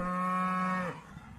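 A single loud, close dairy cow moo, a long sustained low call that drops in pitch and trails off near the end.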